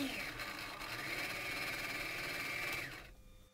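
Small electric mixer motor run through a variable voltage regulator, whizzing with a steady high whine that holds its pitch for a couple of seconds before winding down, with a faint voice in the background.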